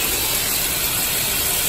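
A trailer's newly installed oxygen-infused shower head sprays water at very strong pressure, a loud, steady, unbroken hiss that fills the whole stretch, close by and with no talk.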